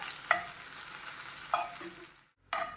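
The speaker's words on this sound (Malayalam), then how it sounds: "ഇനി ഇത് നന്നായിട്ട് ഒന്നുകൂടെ വഴറ്റിയെടുക്കാം" Sliced onions sauté in a pan for a Kerala-style egg roast, with a steady soft sizzle and occasional scrapes of a stirring spoon against the pan.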